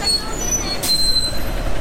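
Loud, sustained high-pitched squeal of Bangkok BTS Skytrain metro wheels on rails, with steady rumbling underneath, close and continuous.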